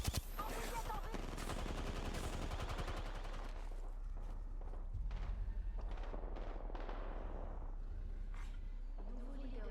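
Apex Legends gunfight: dense bursts of rapid automatic weapon fire, close and loud, with sharp single shots and impacts, fading into sparser shots and game effects toward the end.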